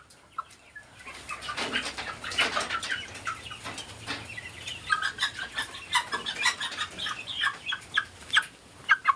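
Mardi kampung chickens, a plump meat breed of village fowl, cluck and chirp in a lively overlapping chorus on a farm, growing busier and more frequent toward the end, with no talking.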